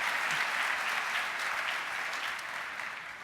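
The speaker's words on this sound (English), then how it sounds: "Let's give each other a round of applause" Conference audience applauding together, a dense steady wash of clapping that holds for a few seconds and gradually eases off, with no voices over it.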